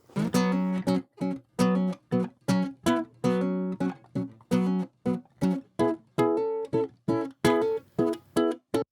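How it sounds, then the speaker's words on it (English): A nylon-string guitar plays a run of separate plucked notes and chords in a steady rhythm, clear and close, with no voices. "next up we've got this nylon strung guitar that sounds like this"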